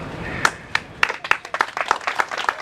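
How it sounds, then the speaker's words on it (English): Audience applause at a Planned Parenthood Arizona press conference on the first day of the 52nd Arizona Legislature: a run of sharp, fairly evenly spaced claps that builds into a steady patter, heard without talk. "let's give it a round of applause"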